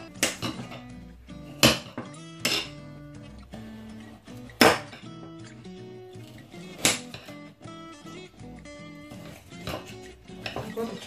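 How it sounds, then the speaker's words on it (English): A knife chopping bell pepper directly on a plate, irregular sharp clinks and knocks of blade against ceramic, close and fairly loud, with quieter scraping between strikes. "Chop it bit by bit."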